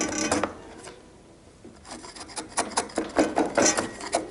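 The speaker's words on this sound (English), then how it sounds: "keep my hand out of the way of the cut of the chisel, and take a little slice out there" A wood chisel pares a thin slice from timber while cutting a housing joint, giving short scraping, rasping strokes in a rising series of close, crisp cuts after a brief quiet pause.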